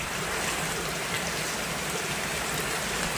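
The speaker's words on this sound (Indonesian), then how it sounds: "sudah hujan juga" Steady rain falling, a dense, even hiss of drops on surfaces with no breaks, close and filling the whole stretch without any voices.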